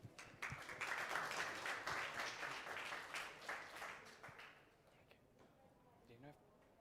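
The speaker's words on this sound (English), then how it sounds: "Let's give a round of applause." A live audience at a conference applauds in a steady round of clapping that fades after a few seconds, leaving quiet room noise with a voice at the end.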